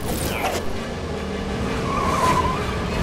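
A truck in Marvel's Spider-Man game drives at speed, its engine roaring steadily while tires squeal and skid in sharp bursts, loud and close with no talk over it.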